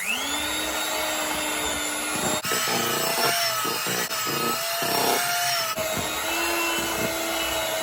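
Eggs are mixed into Jamaican Christmas rum cake batter with a continuous whirring, motor-like drone and rhythmic scraping and knocking against the bowl, loud and steady throughout.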